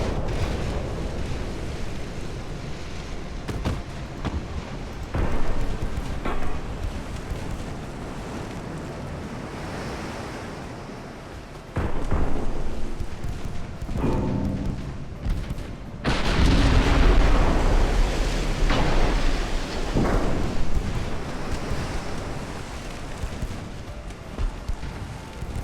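Warship main guns firing in Ultimate Admiral: Dreadnoughts, heavy booming salvos rolling out over a constant wash of sea and wind, with a few louder blasts later on.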